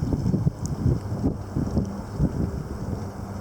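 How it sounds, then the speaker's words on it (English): A strong wind gust sweeps through leaves outdoors during a February wind storm, a steady loud rushing roar with heavy low buffeting against the microphone, rising and falling in swells throughout. "Probably the most impressive gust I've seen this whole entire thing."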